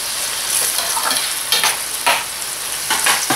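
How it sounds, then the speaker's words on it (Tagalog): Mashed tomatoes sautéing in a pan for a seafood dish, steady close sizzle with scraping stirs of a utensil punctuating it several times, no talking. "So, tuloy lang natin yung paggisa."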